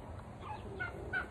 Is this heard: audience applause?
no